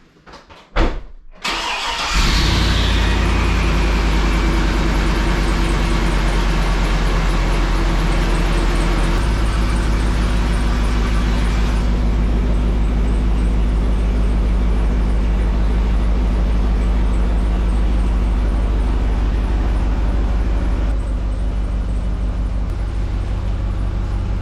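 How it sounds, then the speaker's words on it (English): A 2003 Chevrolet Suburban starting up in a garage, a brief cranking burst followed by a steady, loud close-up idle that drones on for over twenty seconds as it prepares to back out, no talking. "I'm gonna back this thing out."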